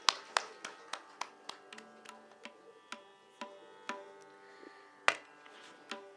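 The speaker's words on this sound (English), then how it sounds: "Let's give a great round of applause for the little one." Scattered hand claps for a young flute performer at a Bharatanatyam arangetram: a dozen or so sharp, separate claps in an uneven rhythm, fairly faint and distant, with no voices.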